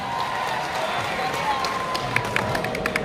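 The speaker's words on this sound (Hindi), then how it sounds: "तालियों की गूंज" Steady applause from an audience at a mushaira, an Urdu poetry gathering, heard as a dense, continuous wash of clapping with a few sharper claps near the end.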